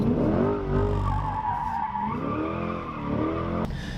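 A mid-engine Corvette C8 on brand new sticky tires drifting at full throttle, its engine roaring steadily as the tires squeal and skid continuously, loud and close for a few seconds.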